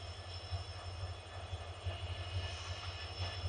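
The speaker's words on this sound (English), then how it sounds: "There's a train." A train rolls past in the distance outdoors after a thunderstorm, a steady low rumble with a faint hiss running unbroken for a few seconds, fairly quiet and with no one speaking.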